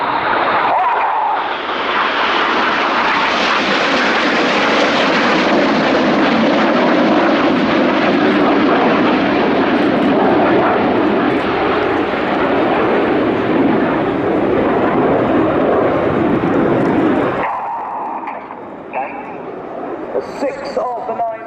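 Jet aircraft at an air show, the Red Arrows flying a Tornado-shaped formation with smoke on, roar past as a loud, sustained broad rush that swells and holds for most of the pass, then cuts off to quieter crowd ambience with a commentator talking over it.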